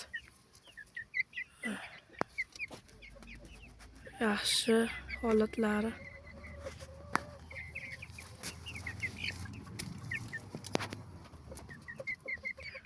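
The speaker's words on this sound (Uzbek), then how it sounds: "Yaqinda olgan qora shahzoda tovuqlarimiz." Black Kadaknath-type chickens cluck close by in short, repeated bursts, mixed with other farmyard calls on a farm, and a person speaks briefly.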